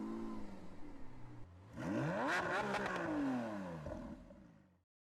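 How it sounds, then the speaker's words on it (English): A 2023 Toyota GR Supra 3.0 with a manual gearbox starts up, its engine sweeping up into a brief rev and then falling back toward idle over a few seconds, heard fairly faintly. "let's fire it up. Just a little bit of overrun on startup to set the tone."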